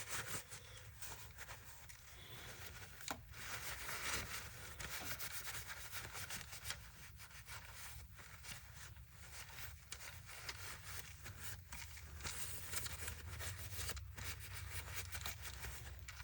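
A cloth rubs dirt and grime off an old Ridgid impact driver, making faint repeated scrubbing and wiping strokes close by, with occasional soft knocks, and no talking.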